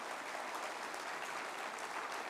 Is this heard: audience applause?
yes